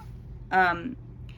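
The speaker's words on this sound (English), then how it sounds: "my cat is messing around now" A house cat gives a single short meow close by, a brief tonal cry in an otherwise quiet room.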